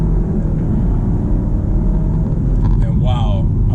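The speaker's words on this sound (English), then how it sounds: "And if I want to put it in dynamic, which I am in now, and I want to rip it around the block real quick" A 2020 Alfa Romeo Giulia in dynamic drive mode accelerates hard, its engine rumble loud and steady from inside the cabin, with a rising whine near the end; a voice speaks over it.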